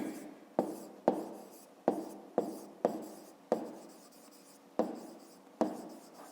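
Pen or pencil writing out an answer to a fifth-grade math exercise on paper: a series of sharp stroke onsets, each trailing into scratchy scribbling, repeating irregularly at close range with no talk.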